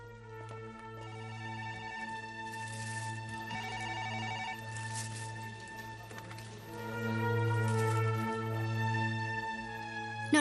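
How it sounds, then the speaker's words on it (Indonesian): An old-style telephone bell rings repeatedly in a drama scene, a steady loud electronic trill with brief gaps between rings, over quiet background and no talk. "Nona Bai, ada telepon untukmu"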